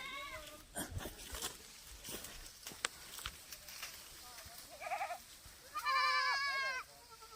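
Goats bleat a few times, the loudest cry near the end, over quiet outdoor background with scattered knocks and rustling.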